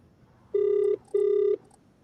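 A telephone rings in an office, with two even electronic ring tones of about half a second each and a short gap between them, clear and steady with no talk.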